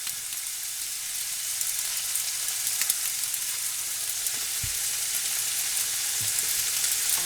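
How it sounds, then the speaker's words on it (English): Chopped onion sizzling and frying in a pan for a beef and green bean stir fry, a steady crackling hiss with a couple of soft clunks of a utensil against the pan. "Going to add our onion."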